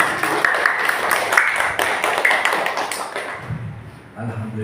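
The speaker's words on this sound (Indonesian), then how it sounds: "tepuk tangan sekali lagi untuk kita semua" A group of students and teachers at a school observation programme closing session clap together in a loud, dense burst of applause that fades out, with a voice speaking over it near the end.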